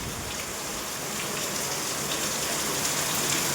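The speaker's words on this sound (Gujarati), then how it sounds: "અમારે વરસાદ સારા મારો પડી ગયો છે અત્યારે" Heavy rain falls steadily after a sudden afternoon downpour on cotton farmland, making a loud, even, continuous wash of hiss throughout with no other sounds.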